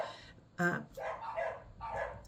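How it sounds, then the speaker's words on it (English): A dog barks and yips a few times in quick succession at close range, the bursts short and sharp with brief gaps, with no talking over them. "we might have to deal with a little bit of barking for a minute"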